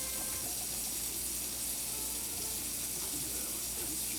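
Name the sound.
Moen kitchen faucet spraying water at maximum jet power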